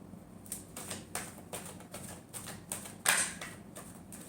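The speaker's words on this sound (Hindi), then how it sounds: "Last shuffle." Tarot cards being shuffled, a rhythmic series of crisp riffling snaps about every third of a second, close and fairly loud with one sharper burst, no voices.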